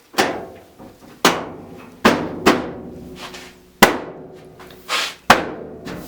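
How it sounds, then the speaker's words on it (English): Hammer blows during a repair of a noisy Samsung clothes dryer: about six or seven hard, ringing metallic strikes at irregular intervals, loud and close, each with a short clanging decay, no talking. "remember to hammer it hard"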